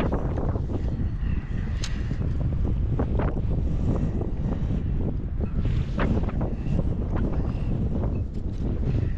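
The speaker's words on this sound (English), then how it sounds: "Crazy windy, guys. Sorry about the wind." Strong wind buffets the microphone beside a river, producing a loud, constant roar and rumble with gusty pops and no speech.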